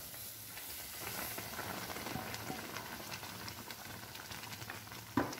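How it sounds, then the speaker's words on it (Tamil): Steady bubbling and sizzling hiss of water at a rolling boil in a pot, close by, ready for semolina when making kesari, with a brief clack near the end. "தண்ணி நல்லா கொதிக்குது"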